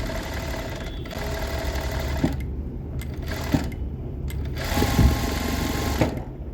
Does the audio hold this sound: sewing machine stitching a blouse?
yes